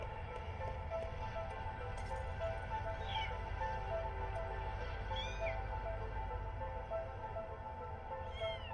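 Several short cat meows sound in a Nintendo Switch 2 video game, spaced a few seconds apart over a steady low background hum, each fairly clear and close.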